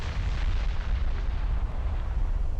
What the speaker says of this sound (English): No, keep shooting the damn battleship